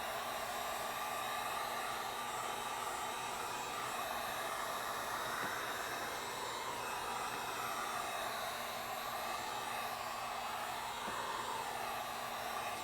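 A heat gun or hair dryer heating a car door panel on a BMW E46 3 Series, a steady loud airy whoosh with a constant motor whine throughout.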